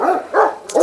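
A dog barks three times in quick succession, sharp and fairly close, with short pauses between each bark.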